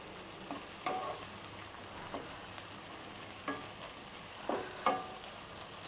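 Onions and green chili sauté gently in a pan for Tamil prawn gravy, a soft steady sizzle punctuated by a few louder spatters and scrapes of a spoon, with no talking.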